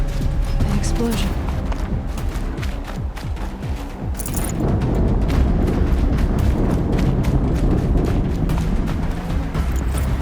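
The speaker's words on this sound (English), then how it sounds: "An explosion." Explosions and booming blasts sound in the Horizon Zero Dawn video game, with heavy rumbling impacts and crackling bursts throughout, loud and dense, while a voice talks over the action.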